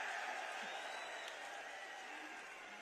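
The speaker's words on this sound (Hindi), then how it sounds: "एक बार तालियों के साथ इनका स्वागत कर दो।" A crowd applauds steadily at a political gathering in India, a broad wash of clapping that holds evenly and fades slightly toward the end, with a faint murmur of voices.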